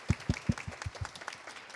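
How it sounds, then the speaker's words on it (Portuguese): Audience applause at a book launch with Mario Sergio Cortella comes as a brief, faint burst of distinct claps that quickly thin out. "E muitas palmas."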